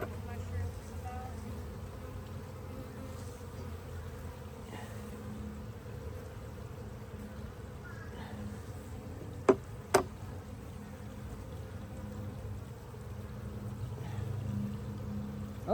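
Honey bees at an open hive during week six of a new beekeeping colony after heavy rain, a faint steady low buzzing hum over soft outdoor background, broken by two sharp clicks near the middle.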